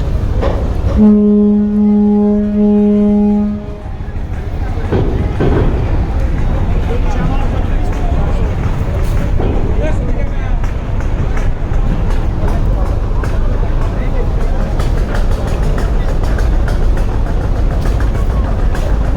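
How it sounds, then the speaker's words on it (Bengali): Passenger launch reversing out from the crowded Barisal launch ghat, a deep ship horn blast at the start followed by steady engine rumble and harbor noise, with someone talking throughout. "ব্যাক গিয়ার দিয়ে যাচ্ছে সুন্দরবন ষোলো লঞ্চ"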